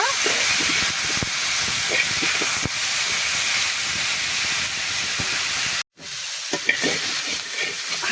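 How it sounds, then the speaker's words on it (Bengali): Potato and cauliflower fry together in a pan with a loud, continuous hissing sizzle and occasional stirring scrapes. There is a brief gap in the sound before the frying resumes. "আলু আর ফুলকপি একসঙ্গে ভাজি করছি"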